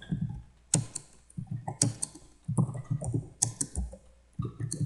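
Keys clatter on a computer keyboard while someone types code for a C# ADO.NET database query, with quick bursts of clicks separated by short pauses, close and fairly loud, with no talk.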